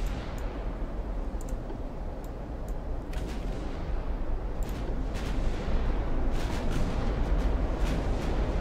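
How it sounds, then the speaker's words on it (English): Heavy naval gunfire from 17-inch battleship guns in the naval warfare game Ultimate Admiral Dreadnoughts, a low continuous rumble scattered with sharp cracks and distant booms of shells firing and landing. "You got hit by a 17-inch gun, so they got, the thing has 17-inch guns."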